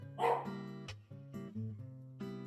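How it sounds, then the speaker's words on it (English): A dog barks several times nearby, sharp yips and whining barks in an irregular run, with no talking over them. "I'm gonna wait for Benji to stop barking"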